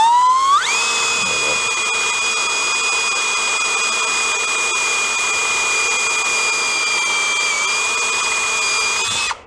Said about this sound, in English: Let's see if we can get to start to drill without having to center punch it.